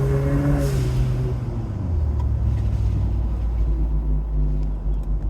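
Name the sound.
car turbo blow-off valve venting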